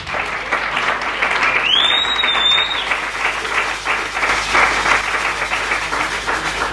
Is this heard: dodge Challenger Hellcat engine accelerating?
no